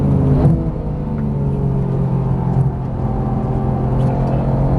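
Porsche GT3 engine under hard throttle on a Las Vegas track, a loud, deep steady drone heard from inside the car with a rising pitch sweep near the start and a sustained rumble after.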